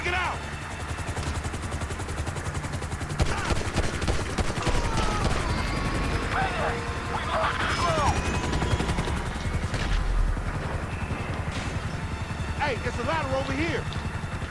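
In Grand Theft Auto 5, a steady helicopter drone fills the scene as bursts of gunfire rattle at it, with voices talking over the action.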